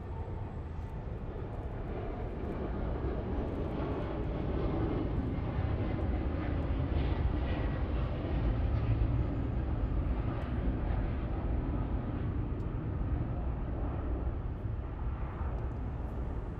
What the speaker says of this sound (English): we have this beautiful American Airlines 737-8 taking off here.